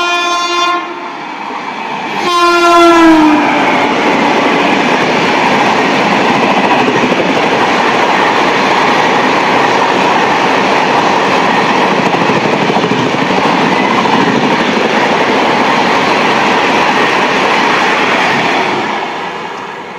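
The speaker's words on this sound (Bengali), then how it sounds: "এই যে ট্রেনটা গেল এই ট্রেনটা হচ্ছে পাটনা হাওড়া জনশতাব্দী এক্সপ্রেস" The Patna Howrah Jan Shatabdi Express sounds its horn in a short blast, then thunders loudly past a station platform with a steady rumble and clatter that fades slightly at the end.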